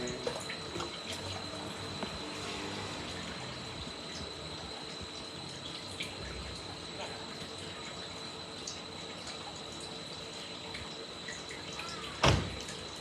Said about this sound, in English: now let's pour this water in the tank